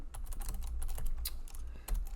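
Quick, irregular keystrokes on a computer keyboard while code is typed, a steady run of close, crisp clicks with no talking.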